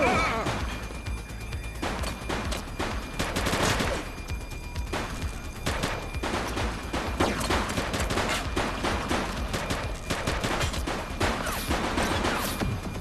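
Heavy gunfire fills a shootout in the police video game The Precinct: dense, continuous volleys of overlapping shots and bursts, loud and close throughout, with brief crashes mixed in.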